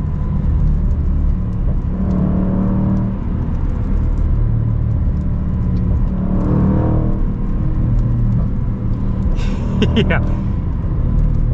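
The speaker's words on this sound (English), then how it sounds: "I got it to do a couple of the crazy pops. You kind of have to like feather the throttle" Range Rover Sport SVR engine revving and rumbling steadily under feathered throttle, with a few sharp exhaust pops near the end, heard from inside the car while a person speaks briefly.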